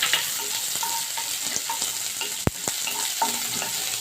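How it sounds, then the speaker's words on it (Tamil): Urad dal and chopped onion sizzle steadily in a hot pan while a spatula stirs and scrapes, with a few sharp clinks against the metal; no one speaks. "இதெல்லாத்தையும் நம்ம நல்லா கிண்டி விட்டுடலாம்."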